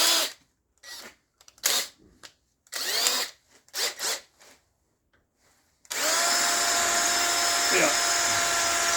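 Bursts of low talking give way to a steady, continuous whir of a hand drill running loudly without pause.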